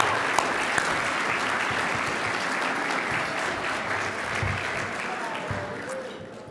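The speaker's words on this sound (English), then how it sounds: "now you have to stand and we're clapping for you again" Sustained, steady applause from a large audience at an awards dinner during an annual conference, dense and even throughout, with some murmuring voices mixed in.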